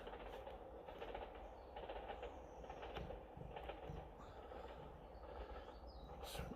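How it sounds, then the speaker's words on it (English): A small train rumbles across a swing bridge out in the countryside, heard from a distance as a faint, steady clattering roll with light metallic creaks and knocks. "You hear a lot of noise in a minute as it goes over the"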